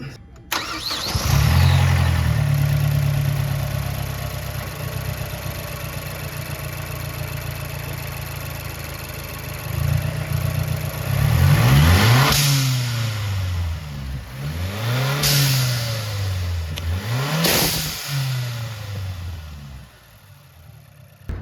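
A Mazdaspeed 3 fitted with an aftermarket blow off valve starts and idles, then revs hard three times. Each rev climbs and falls back with a sharp hissing whoosh from the valve, loud and close, with no talking.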